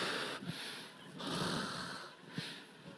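A preacher imitates snoring with his voice, a few rough, breathy snorts and wheezing inhales repeated across the moment, loud and close with no other talk.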